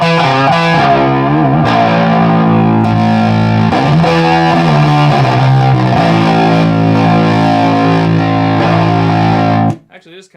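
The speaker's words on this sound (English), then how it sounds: "you can run the fuzz on top of the amp distortion," An electric guitar plays chords through a fuzz pedal stacked on the overdriven distortion of a Class-A EL84 tube amp, a loud, thick, buzzing tone with ringing sustained notes that stops abruptly near the end.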